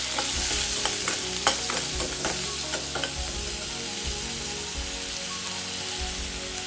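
Peanuts, chopped garlic, green chillies and chilli paste frying in hot oil, a steady loud sizzle with scattered crackles and stirring clinks throughout, no voices.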